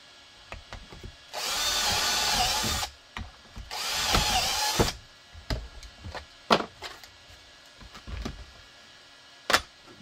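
A power drill whirs in two bursts of a second or so each, close by, drilling holes through a drill guide, followed by scattered knocks and clatter of tools on wood.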